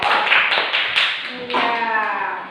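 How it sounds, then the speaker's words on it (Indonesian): Classroom children applauding a group, a dense burst of many small hands clapping together with a brief lull before a second wave of applause. "Nah, tepuk tangan dulu untuk kelompok Zabur."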